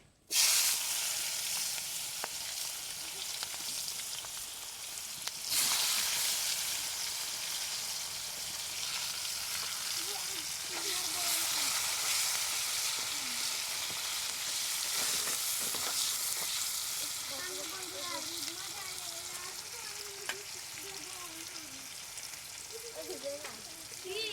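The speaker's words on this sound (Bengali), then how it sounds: "শুকনো লঙ্কাটা ভাজা হয়ে গেছে এবার আমি দিয়ে দেবো পেঁয়াজ কুচি" Chopped onion hits hot oil with dried red chilli, a loud steady sizzle that fills the whole stretch, with a sharp burst near the start and another around five seconds, plus faint stirring and a soft voice underneath.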